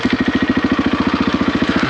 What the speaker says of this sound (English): I think I'm gonna go engine on.